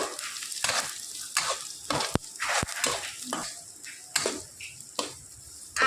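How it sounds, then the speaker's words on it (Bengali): Grated garlic, chopped ginger and green chillies are stir-fried in a pan: a close, lively crackle broken by frequent spatula scrapes and knocks against the metal. "আদা রসুন আর কাঁচা লঙ্কা আমি খুব সুন্দর করে এখানে নাড়াচাড়া করে নিয়েছি"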